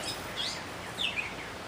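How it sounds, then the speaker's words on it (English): A catbird sings in a few brief, high, squeaky chirps spread over under two seconds, fairly faint against a steady outdoor background hiss. "I hear a catbird."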